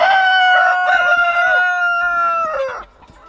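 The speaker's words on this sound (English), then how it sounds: "Roosters are a bit noisy." A rooster among a flock of Australorp chickens crows loudly and close by, one long drawn-out call that trails off near the end.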